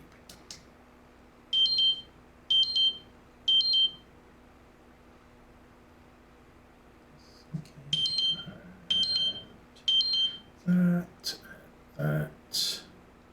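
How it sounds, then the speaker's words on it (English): A phone gives several short, bright electronic beeps in a regular pattern, two separate bursts of them, close by, with a voice talking over the later beeps. "my phone is beeping"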